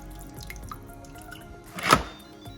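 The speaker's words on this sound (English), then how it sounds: "I am going to add a little bit more vinegar here." Vinegar is poured onto spice-coated food, giving one brief, close liquid splash after a few soft kitchen clicks and drips.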